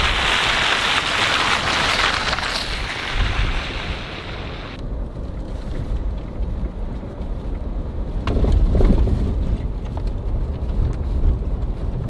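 Rain at a cold, windy mountain campground with snow patches: a loud, dense hiss of falling water mixed with gusting wind, easing briefly midway before swelling again, with no voices.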